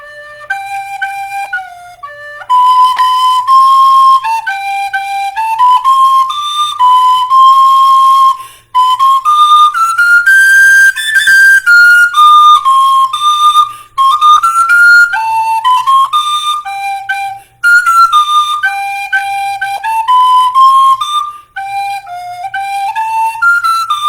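A recorder plays a folk tune from the Irish, Breton and Russian repertoire, performed live: a clear, breathy solo melody with gliding and stepping notes, close and loud, broken by a few short pauses between phrases.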